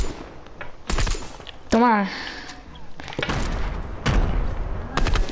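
Gunfire in a shooting video game: several sharp bursts of shots, close and loud, spaced through the moment, with talking in between.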